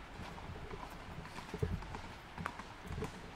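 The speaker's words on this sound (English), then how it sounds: "There's a horse." Horse hooves clip-clop at a walking pace outdoors, a few moderately loud hoof strikes standing out over steady background noise, with no talk over them.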